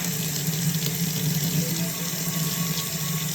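Warm tap water runs steadily into a bathroom sink, a continuous close splashing flow with no talk over it.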